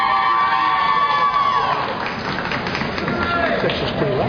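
One section of the audience at a 2009 Cleveland State University graduation ceremony cheers and whoops loudly for a graduate. Shouts and applause blend with an announcer's voice reading names over the public address.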